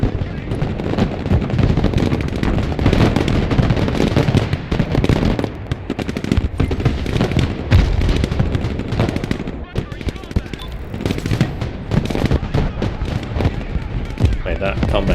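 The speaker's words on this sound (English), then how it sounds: "That's a bombing strike." A bombing strike in an online shooter video game: loud, dense, continuous blasts and rapid crackling gunfire rumble without a break for the whole stretch.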